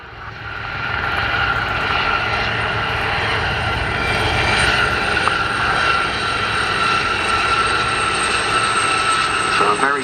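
Gazelle helicopters fly in a tight formation at an RAF air show, their engines and rotors making a loud, continuous roar that holds steady throughout.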